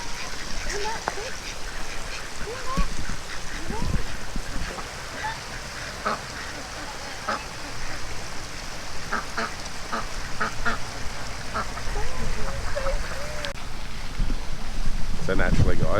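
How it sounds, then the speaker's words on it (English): Ducks quack intermittently among a large flock outdoors in the Grafton region of New South Wales, with short calls scattered over steady wind and water ambience, fairly close, while people talk now and then. "there's heaps of normal ducks as well"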